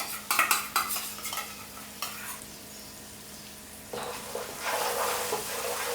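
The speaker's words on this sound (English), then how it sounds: "we're still blooming the spices as this onion paste is cooking in here" Onion paste with spices sizzling as it cooks in a pan, opening with a few sharp scraping stirs, then a soft steady fry that swells louder and brighter near the end.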